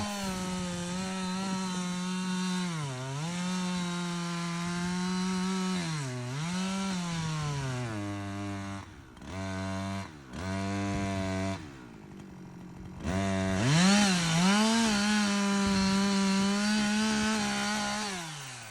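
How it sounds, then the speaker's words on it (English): A power saw cuts a block of firewood in half, its engine droning at a steady pitch that dips and recovers as the blade bites, pauses briefly, then revs loud again to finish. "I use my power saw to cut the block in half"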